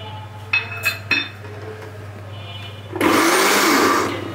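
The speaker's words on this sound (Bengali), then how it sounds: "তিলটা দিয়ে ব্লেন্ডার করব" A kitchen blender grinding sesame seeds starts up loudly after a few clinks and knocks of utensils, then runs steadily for the last second or so.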